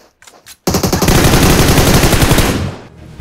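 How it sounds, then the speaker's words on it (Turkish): Automatic gunfire in the mobile battle-royale game PUBG Mobile, a couple of faint shots followed by a loud, sustained rapid burst lasting about two seconds before cutting off. "Bir body shot attım."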